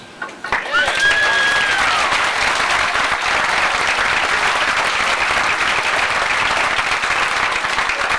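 Cruise passengers aboard a ship bound from San Francisco to Costa Rica give ship's officers a loud, sustained round of applause that rises sharply after a brief lead-in and fills the hall steadily to the end.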